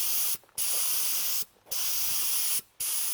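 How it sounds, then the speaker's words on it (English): Three bursts of spraying water-based polyurethane onto wooden slats for a tambour door, each a loud steady close hiss about a second long, separated by short quiet pauses. "I can spray on a coat of water-based polyurethane on the front and the back"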